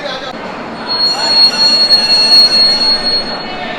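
Vivek Express passenger train rolling along the rails, a steady close rumble with a high metallic wheel squeal running through it.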